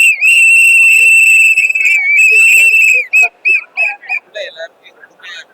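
Shrill, loud whistle blown in a long sustained blast for about three seconds, followed by a run of short, quick toots that fade away.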